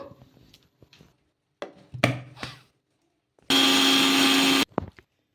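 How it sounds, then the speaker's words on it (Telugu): Mixer grinder jar grinding puffed rice into a fine powder, preceded by a few knocks and rattles as the jar is handled, then a short loud burst of motor whirring lasting about a second before clicking off. "మిక్సీ జార్లోకి వేసేసుకొని మెత్తగా పౌడర్ లాగా మిక్సీ పట్టేసుకుందాము"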